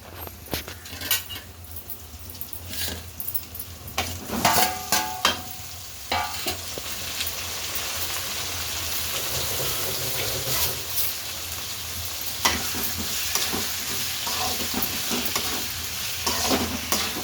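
Tomatoes frying in a pan for a Sunday chicken gravy, stirred with a spoon: steady sizzle throughout with scraping, clinking stirring strokes in bursts, fairly close and moderately loud, no voices.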